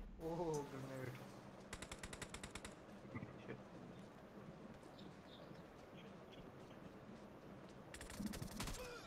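Rapid automatic gunfire in PUBG Battlegrounds India during a live custom-room match, short bursts at the start and end over a busy game soundscape with voices talking.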